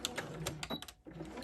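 A sewing machine running backward as it stitches a bridesmaid dress, a quiet, fast rattling hum with short bursts and one brief pause, heard nearby with no talking.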